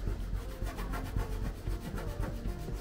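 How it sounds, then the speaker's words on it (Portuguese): A microfiber cloth rubbing steadily over a car body panel to wipe off rough leftover glue before sanding, a continuous close scrubbing swish with rhythmic strokes, no talking. "Vim aqui com uma microfibra e vai saindo tudo."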